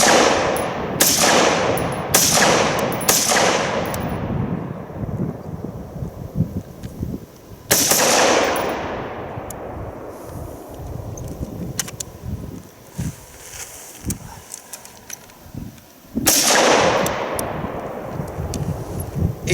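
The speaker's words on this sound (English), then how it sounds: "It's been a while since I've shot a gas piston AR" A Bushmaster M17S gas piston bullpup rifle fires outdoors, a quick string of four loud sharp cracks, then single shots well spaced, each echoing and fading across open ground.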